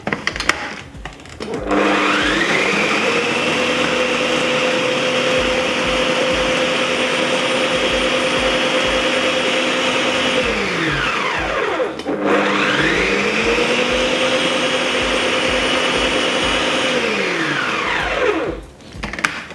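A blender crushing cookie ingredients (baking soda, butter and dry mix) runs loudly in a steady whirring roar, pauses briefly, then starts again, with no voices.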